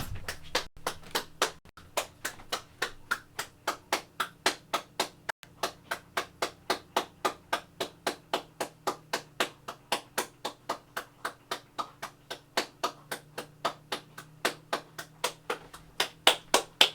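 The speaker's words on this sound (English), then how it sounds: "So I'll clap for another 20 seconds or so." One person claps steadily alone for a long stretch, sharp regular claps at roughly three per second, close and clear with no talking.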